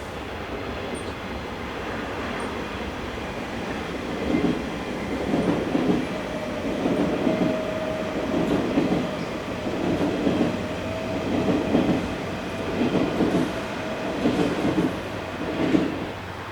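Swiss passenger multiple unit 502006 on a Basel to Chur service, passing on the Sargans to Zürich mainline, a steady rolling rumble with a regular clickety-clack rhythm of wheels over rail joints, fairly close and continuous.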